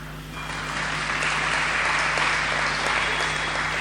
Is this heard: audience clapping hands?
yes